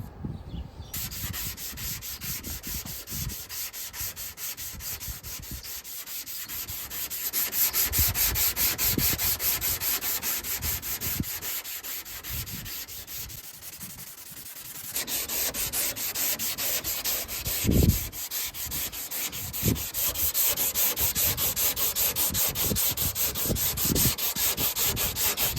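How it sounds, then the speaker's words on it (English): Bondo body filler on the quarter panel of a 1987 MK3 Supra drift car is sanded by hand in long, rhythmic, raspy strokes. The scraping is close and continuous, with a short pause midway and no talking. "Now we're just gonna go and sand it."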